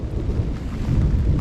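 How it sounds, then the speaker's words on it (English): Low, continuous rumble of a thunderstorm, with heavy thunder and wind filling the low end throughout, loud and steady without distinct peals. "Get a load of this storm."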